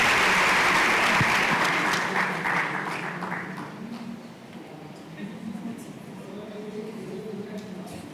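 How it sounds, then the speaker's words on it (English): Crowd applause fills a science and technology exhibition hall, loud and dense at first and then thinning out as a voice speaks over it. "Keep the round of applause going."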